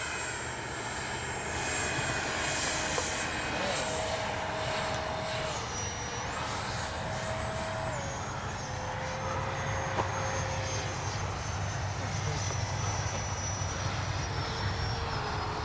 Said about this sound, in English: Fabulous flying jet.